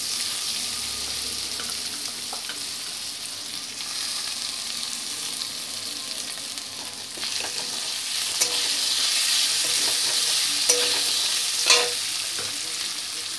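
Mung dal tipped into fried potatoes sizzles steadily in a pan, with scraping stirs and a few sharper clinks of the spoon rising over the continuous frying hiss.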